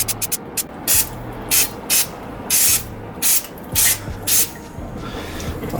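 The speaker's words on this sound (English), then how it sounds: "I'll spray everything now with brake cleaner because some got on my CV boot" Brake cleaner hisses onto the brakes and CV boot of a 2015+ Subaru WRX in repeated short, loud spray bursts, about ten of them in an irregular rhythm with brief pauses between.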